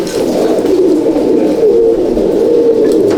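Pigeons in a loft, Andhra and Madrasi breeds, coo in a steady low throaty murmur that runs through the whole moment, loud and close, with no speech over it.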